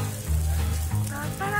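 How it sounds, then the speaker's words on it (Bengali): Eggs fry in oil on a pan with onion, chilli and special spices at a North Bengal egg-fry stall, a close crackling sizzle under low hum and faint background voices. "এবার ডিমটাকে সুন্দর করে ভাজা করা।"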